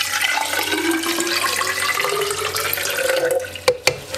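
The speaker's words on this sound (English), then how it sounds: "and I'll pour it in the cylinder, and we'll do this again." Salt water is poured steadily into a cylinder, a continuous rushing, gurgling liquid pour that rises in pitch as it fills, ending with a couple of sharp knocks.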